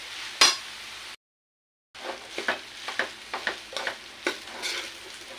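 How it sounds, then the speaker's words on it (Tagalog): Freshly cooked, still-sticky rice is stirred into a hot pan for fried rice, with a steady stream of rhythmic scraping strokes over a soft sizzle, close and clear, broken by a short gap of silence. "Lagyan natin yung ating rice. Ayan, malagkit-lagkit pa bagong luto."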